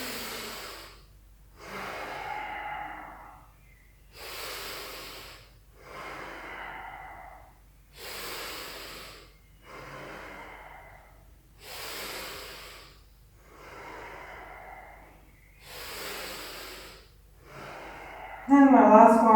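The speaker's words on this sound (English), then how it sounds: "just take nice 2 cleansing breaths, inhaling, exhaling" Slow, deep cleansing breaths in a morning yoga routine, alternating audible inhales and exhales in a steady rhythm of about eight cycles, close and breathy, with a voice starting at the end.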